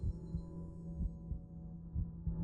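Slow, deep heartbeat thumps, faint and muffled, repeating in a steady double-pulse rhythm over a low electric hum, with no talking.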